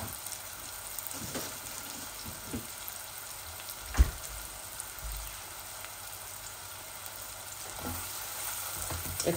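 Ginger garlic paste sizzles with salt and dry whole spices in a pan, a steady low frying hiss broken by occasional soft stirring knocks, one louder clack partway through.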